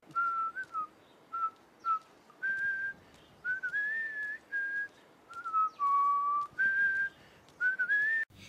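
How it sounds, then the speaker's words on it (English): A stranger whistles a tune while walking down a road, a clear melodic line of short phrases and sustained notes rising and falling, close and alone with no talk. "Then one day, a stranger came whistling down the road."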